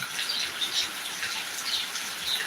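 Heavy rain pours down in Attingal, Thiruvananthapuram, making a steady, dense hiss that holds at an even level throughout, with no voices.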